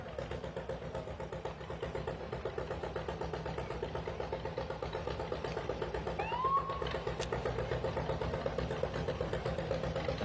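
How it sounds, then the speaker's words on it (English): Old John Deere tractor engine chugging along in a Veterans Day parade, a steady rhythmic putter with regular pulses at moderate distance, accompanied by faint crowd ambience and a brief high squeal. "We have a John Deere tractor coming"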